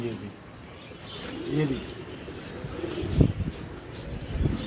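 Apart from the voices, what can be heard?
pigeons cooing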